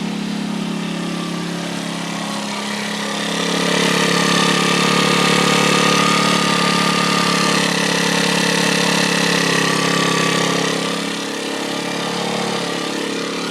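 A scooter engine running steadily, then revved up to a higher, louder buzzing pitch for several seconds before dropping back to idle; close and alone, with no talk.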